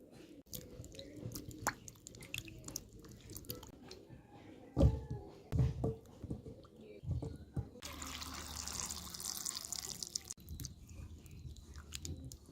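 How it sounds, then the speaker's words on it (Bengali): Jamun fruit being washed by hand in water, with intermittent splashing, sloshing and rubbing of the fruit at close range, and a brief stretch of running or pouring water near the end. "ভালোভাবে কয়েকবার ধুয়ে নেব"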